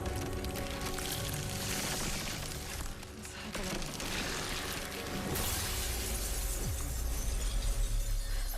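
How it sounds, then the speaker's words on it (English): Glass shatters and crashes loudly and continuously, a dense breaking clatter with debris falling, sustained for several seconds. "Stand back from the shattering glass, people."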